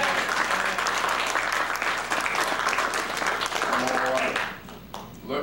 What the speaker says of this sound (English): Give them all a hand clap.